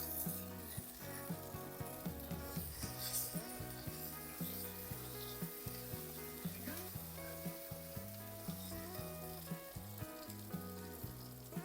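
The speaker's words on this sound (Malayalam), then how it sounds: "ഈ പേസ്റ്റ് ചെയ്തുകൊണ്ടുവന്ന മസാലക്കൂട്ടില്ലേ അതിങ്ങോട്ട് ഒഴിച്ചു കൊടുക്കാം." Masala paste poured onto sautéed onions fries in a pan with a faint, steady sizzle, quiet and partly covered by rhythmic background music.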